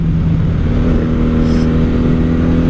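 A 1997 Honda Magna 750 (VF750C) motorcycle pulling away hard after a downshift, its V4 engine loud and close with a steady, rising drone throughout.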